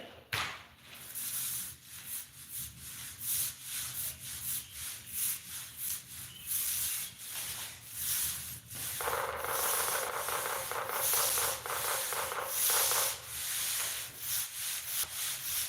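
Rhythmic rasping strokes of a paint roller rolling epoxy paint across a floor, repeated swishes at a steady pace, close and fairly quiet.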